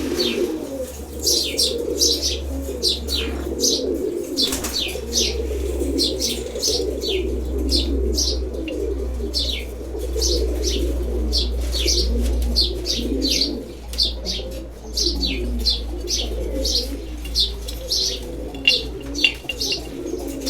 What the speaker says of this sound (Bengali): খুব সুন্দর একটা নর কবুতর।